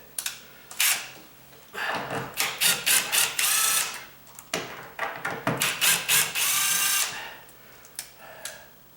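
Screws being driven out of the top and bottom hinges of a solid core exterior door with a power drill, heard as repeated short bursts of whirring and ratcheting with brief pauses between them, close and fairly loud.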